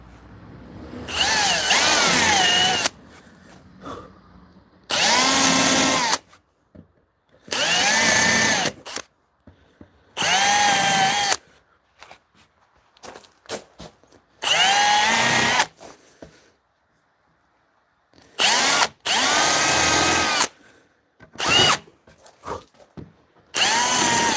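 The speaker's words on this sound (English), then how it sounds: "I'm just running the pilot hole under here and countersunk bit" Power drill driving a countersunk bit into wood to make pilot holes for a folding bench, about eight separate bursts of whining spin of two to three seconds each, close and loud, with quiet handling noises between them.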